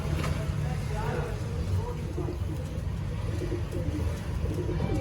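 Soft, low pigeon coos repeat through steady background rumble, with voices murmuring underneath.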